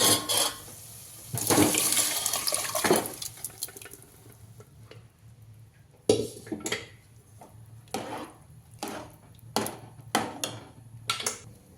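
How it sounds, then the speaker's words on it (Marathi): Cooked lentils go into a pan of sautéed spices for sambar, with loud sloshing, splashing pours and scraping stirs in bursts separated by short pauses, close and without voices. "आता टाकत आहे मी शिजलेली डाळ"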